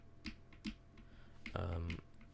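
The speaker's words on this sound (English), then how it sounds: "Obviously, you can hear my keyboard, it goes like this." Keyboard keys tapped while strafing in Valorant: a few isolated clicks followed by a short, rapid burst of presses, close and fairly quiet.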